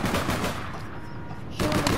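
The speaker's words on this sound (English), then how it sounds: "I'm being shot everywhere." Rapid gunfire in the online shooter APB Reloaded: dense bursts of shots at the start and again near the end, with a quieter pause between them.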